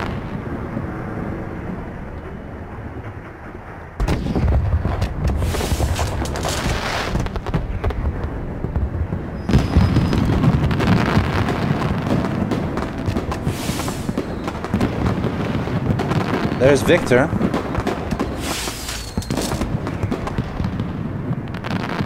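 In the stealth game Hitman, fireworks go off in a sudden loud barrage of booming, crackling bursts that continue in rolling waves after a quieter stretch, with a brief spoken line heard over them.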